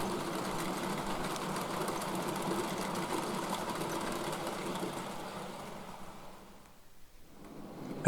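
A model train runs into the fiddle yard on a model railway layout, a steady low mechanical whirr and rattle that fades briefly near the end before picking up again.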